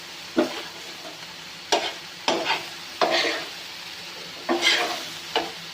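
Chicken tikka pieces with oil, salt, cumin and red chili roasting on a tawa, a steady sizzle broken by several sharp scraping stirs spaced a second or so apart, close and fairly loud with no talking.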